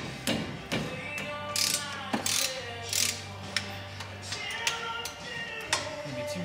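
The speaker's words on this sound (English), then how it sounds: "You're going to require a 1/2 inch ratchet along with a 13/16 socket." A 1/2 inch ratchet with a 13/16 socket clicks in quick bursts while loosening brake caliper mount bolts on a rusty vehicle during a wheel hub replacement, close up, with a low steady hum underneath.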